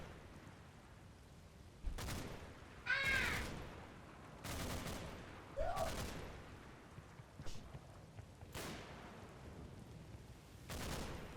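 Scattered gunfire in the WWII tactics game Combat Mission: Battle for Normandy, around Mondrainville with Scottish troops: sharp single shots and short bursts spaced a second or two apart over a steady low battle rumble.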